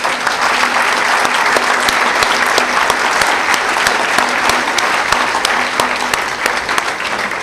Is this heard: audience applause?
yes